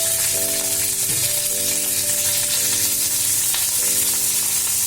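Dried red chillies and curry leaves frying in hot oil, a loud, continuous sizzle and crackle close up, with a steady hiss throughout and no talking.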